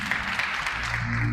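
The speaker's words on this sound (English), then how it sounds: "clap your hands for the British people" An audience claps together at a community health outreach gathering in the UK, a short stretch of steady, dense applause with a voice briefly present beneath it.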